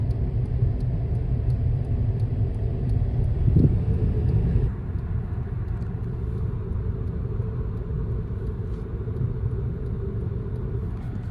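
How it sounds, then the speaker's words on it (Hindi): A car rolls in neutral at around 40 to 50 km/h near Madina, giving a steady, loud road and tyre rumble that drops slightly partway through, with no voices. "न्यूट्रल में है गाड़ी, 40 की स्पीड में गाड़ी चल रही है"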